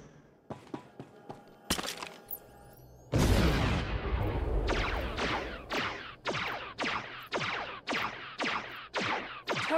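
Artillery fire in the Star Wars: The Old Republic space battle, with a sharp opening crack, then a heavy blast and a steady run of about ten loud, evenly spaced shots that trail into a sustained rumble.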